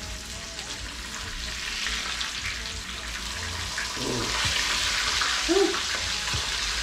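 Pompano and palometa fish frying in a hot pan, a steady broadband sizzle running throughout, swelling louder near the end as the fillets are flipped, with a couple of brief clunks and a short spoken exclamation.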